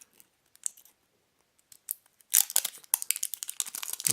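Plastic packaging being peeled and torn off a 9-volt battery, close crinkling and crackling in scattered bursts that grow denser and louder toward the end.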